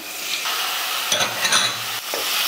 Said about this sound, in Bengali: আমি এবার টক দইয়ের বাটি ধোয়া জলটা দিয়ে দিচ্ছি